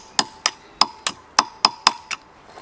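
A chisel, a broken flathead, is hammered against a folded locking tab on a classic pre-A+ Mini engine being dismantled, giving eight sharp, evenly spaced metallic taps, close and clear with nothing else heard.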